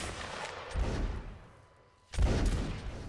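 Musket volleys ring out in the Napoleonic Wars mod of Mount and Blade Warband during a line battle, with two loud, crackling bursts of massed gunfire about a second and a half apart, the second sharper and closer.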